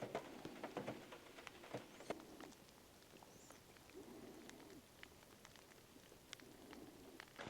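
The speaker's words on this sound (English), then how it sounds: "The rain's not stopping." Rain falls steadily around a truck camp on a back country lake, a faint, even patter with scattered sharper drop ticks and occasional soft bird calls in the distance.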